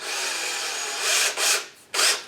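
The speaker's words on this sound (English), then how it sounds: "now we're going to drill very slowly up against the wall right here" A power drill with a very small bit, 1/16 to 1/8 inch, bores slowly into a wall for a pilot hole, a steady whirring grind that swells in two or three short pushes, close by.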